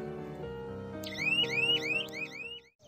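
Alarm of a solar jhatka fence machine sounding over a steady electronic hum: a loud, repeating rising chirp-like siren pulsing about five times, then cutting off.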